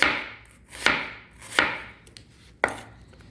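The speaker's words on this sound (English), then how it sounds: "I'm using my plastic cutting board today. And it's loud." A knife chops on a plastic cutting board, likely through vegetables, with four sharp, loud, close strikes spaced irregularly and no talking.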